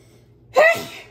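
A single quick, loud sneeze bursts out after a moment of near silence, close to the listener.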